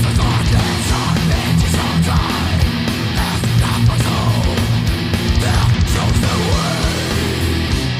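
Dense, loud thrash-influenced melodic black metal, with fast driving guitars and pounding drums continuing without a break.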